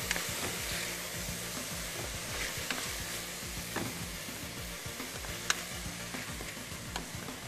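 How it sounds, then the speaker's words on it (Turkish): Steady sizzling and crackling of mushrooms sautéing in hot oil in a pot, with occasional stirring scrapes, close and continuous without any talking. "Yağımızı tenceremize attık"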